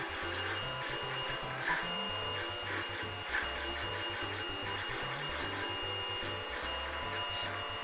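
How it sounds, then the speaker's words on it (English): A 3D printer at work, its stepper motors humming and chirping in a steady rhythmic whir of shifting tones, close and continuous, with no talking. "We're printing again."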